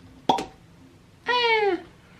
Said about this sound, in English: was an okay cork pop, but whatever